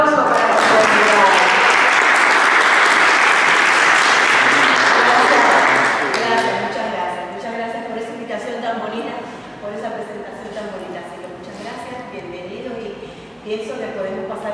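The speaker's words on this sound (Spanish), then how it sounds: "Un aplauso para la comunidad." An audience claps steadily and densely for about six seconds at a morning talk on theatre and literature with an actress and singer. The applause then cuts off and a voice begins speaking.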